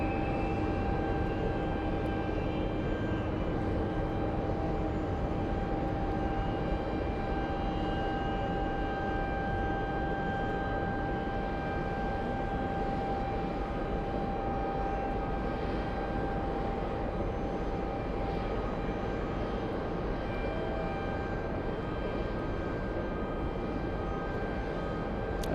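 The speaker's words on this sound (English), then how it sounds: "let's go over to the 777 on final" Kalitta Boeing 777 cargo jet on final approach at snowy JFK airport, a steady, broad engine roar with sustained whining tones holding evenly throughout, distant and unbroken, with no voices.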